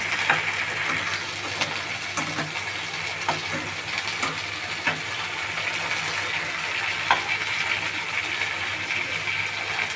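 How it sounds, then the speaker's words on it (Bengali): Beef steak fries in a pan at home while being stirred and flipped, giving a steady close sizzle with a broad hiss and scattered sharp clicks and scrapes from the utensil against the pan, without any talking. "যতক্ষণ না ভাজা হচ্ছে নাড়তেই থাকবে আমার ভাই।"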